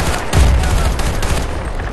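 Gunfire from the video game Battlefield: Bad Company 2, a loud, dense burst of overlapping shots and rumbling blasts filling the whole stretch without pause, with no talking over it.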